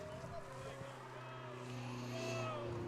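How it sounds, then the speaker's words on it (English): A race car passes by behind a baseball field, its engine a sustained droning whine that swells slightly toward the end, heard at a distance beneath faint background chatter. "Race car going by us back here."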